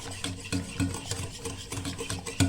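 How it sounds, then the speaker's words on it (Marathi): Curd being beaten smooth with a beater, a close rhythmic series of soft scraping and clacking strokes repeating roughly every half second. "ह्याला चांगलं एकसारखं बिटरनं बीट करून घ्या म्हणजे ते गुळगुळीत व्हायला पाहिजे"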